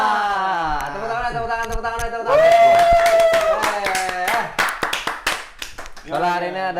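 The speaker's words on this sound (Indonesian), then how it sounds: "Tepuk tangan." A short burst of hand clapping from a small group, mixed with excited voices and laughter.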